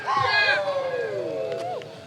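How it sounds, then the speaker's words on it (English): Spectators in a parking lot at a disc golf tournament yell and whoop from a distance, with a few drawn-out voices rising and falling over a quiet outdoor background. "Everybody cheering from the parking lot."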